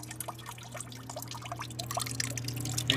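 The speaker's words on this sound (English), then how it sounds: "And you have a water-cooled air conditioner." A homemade water-cooled air conditioner runs with a steady low hum while water pours and trickles through it, rising slightly louder toward the end.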